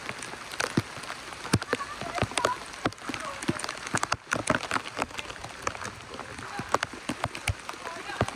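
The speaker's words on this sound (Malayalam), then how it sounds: "മഴ." Rain falls in a forest near Matheran, Maharashtra, during a train ride: a steady patter dotted with many sharp drop clicks, fairly close and continuous.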